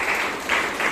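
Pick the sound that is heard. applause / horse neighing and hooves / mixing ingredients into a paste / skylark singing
applause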